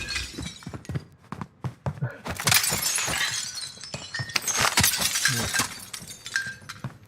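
Glass shattering in the Call of Duty Warzone video game, several crashing breaks and clinks at irregular intervals over about seven seconds, with a voice talking in between.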